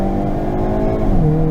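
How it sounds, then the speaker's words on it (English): Exhaust of a 2022 Hyundai Kona N with its 2-liter turbo engine, heard from the cabin as a loud continuous engine drone whose pitch steps down as the revs drop, with no distinct pops standing out. "That gurgle, that pop."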